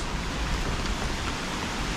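Light rain falls steadily in the mountains, a continuous even patter and hiss filling the whole stretch with no voices.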